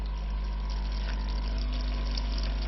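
A Spidem Divina Deluxe SUP025MYR coffee machine pumps water through its circuit during descaling. A loud, constant mechanical hum with a low vibrating drone and a light watery hiss runs through the whole stretch without a break.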